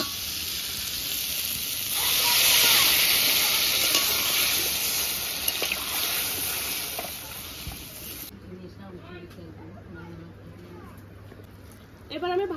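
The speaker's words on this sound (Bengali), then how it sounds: "কষানো হয়ে গেছে, এবার আমি জল দিয়ে দেবো।" Water poured into a pan of sizzling spiced fish curry, a loud rushing hiss and steam that swells then cuts off, followed by quieter bubbling while someone talks.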